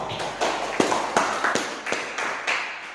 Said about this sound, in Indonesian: Sekali lagi kita tepuk tangan untuk kita semua